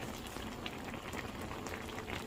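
Plum soup bubbling over high heat, a steady close boil with dense popping and spattering held at an even level throughout, no voices.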